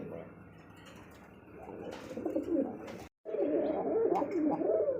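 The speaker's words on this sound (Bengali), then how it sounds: "বিশাল সাইজ কিন্তু দেখতেছি জোড়া লোটন কবুতর" A pair of large lotan pigeons coo softly in low rolling murmurs, mixed with someone talking nearby and a brief drop in sound midway.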